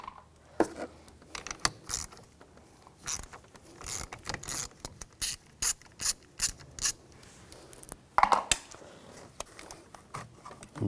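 A ratchet wrench loosens the fastener on a cover on a 2011-2019 Ford Explorer during battery and transmission mount work, giving bursts of rapid mechanical clicking at close range, with a louder clatter near the end and no talk.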